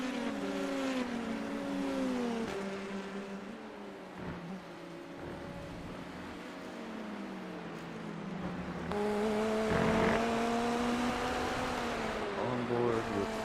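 IndyNXT open-wheel race car in the iRacing sim at Mt. Fuji, onboard: a steady engine drone with rising and falling harmonic pitch as gears shift, continuous and close throughout.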